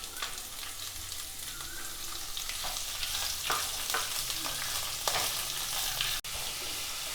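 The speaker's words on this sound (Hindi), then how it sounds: "अभी इसमें हम देंगे 2 कटे हुए प्याज।" Chopped onions frying in hot oil with cardamom, cloves, cinnamon and raisins for shahi paneer, giving a steady, close, full sizzle with occasional stirring scrapes and no talk.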